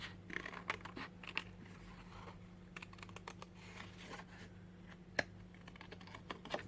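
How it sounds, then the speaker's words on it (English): Small, dainty nail scissors fussy-cutting curvy shapes from paper, heard as faint, irregular snipping clicks over a quiet, steady background hum with no voices. "now the joy of fussy cutting, and I'm going to do it with this nail scissors"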